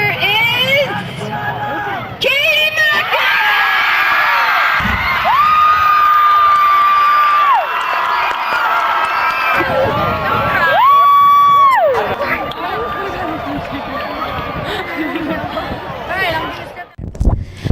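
A large crowd at a queen crowning ceremony cheers and roars loudly throughout, with dense babble, shouts and children's voices, and steady sustained tones rising above the noise.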